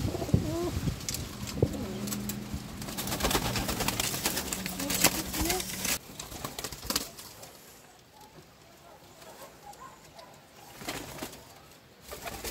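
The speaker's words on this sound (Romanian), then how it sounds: "Și ăștia sunt tot porumbei de la matcă." Pigeons in a breeding loft coo in a low, rumbling chorus, busy and close during the first half with some wing flutter, then thinning to sparse, quieter coos.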